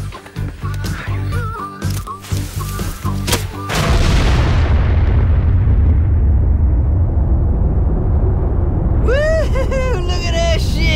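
A gas bucket blown up by fireballs goes off in one loud, deep boom that rolls into a long, heavy rumble, and voices whoop excitedly near the end.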